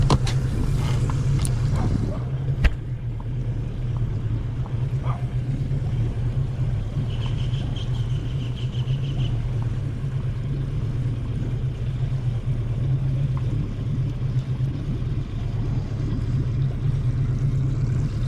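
A boat engine runs on a narrow canal near a backyard pond, a steady low droning rumble that is loud and constant throughout, with faint knocks near the start.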